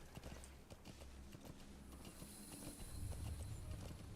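A horse's hooves clip-clop steadily in Metal Gear Solid V, a quiet, even rhythm of light hoof strikes that grows slightly heavier toward the end, with no talk over it.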